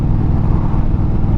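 A new motorcycle cruises along at steady speed, its engine a continuous close, loud drone with wind rush throughout.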